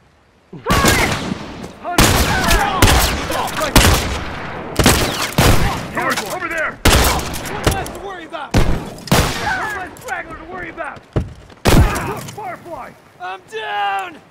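Loud, repeated rifle gunfire in The Last of Us, with sharp cracks in bursts throughout and shouted voices between and over the shots.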